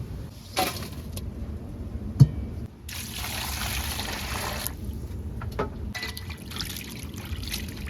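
Water trickles and splashes as sea shrimp are rinsed by hand, with intermittent knocks and swishes, fairly quiet and close.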